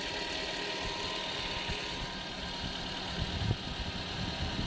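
Car engine idling steadily after being started during an oil pressure switch repair, a continuous low mechanical hum with faint vibration, close by and alone without talk.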